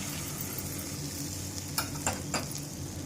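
Sizzling tempering seeds with asafoetida being stirred into cooked rice for lemon rice, a steady low frying hiss with a few soft scraping stirs near the end.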